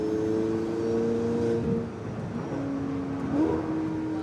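A Porsche 918 Spyder engine pulls hard from inside the cabin, its tone climbing then dropping abruptly at quick gear changes before rising again, steady and moderately loud with no speech.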